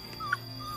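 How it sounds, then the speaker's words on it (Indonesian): A dog on a road gives a short, thin whimpering yip, faint and brief against steady background noise, with no talking. "wih ada guk-guk"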